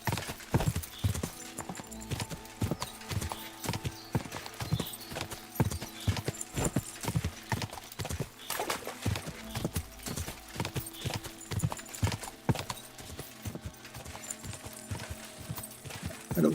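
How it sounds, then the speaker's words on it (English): A horse gallops in Kingdom Come Deliverance 2, its hooves clip-clopping in a steady, fast rhythm close by, with occasional battle noise and a faint whinny mixed in under the constant pounding. "That's the horse."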